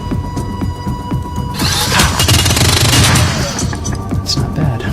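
Burst-fire gun attack in Shadowrun: Dragonfall, a rapid rattle of repeated shots over a low throbbing hum, swelling into a dense loud volley midway before easing off.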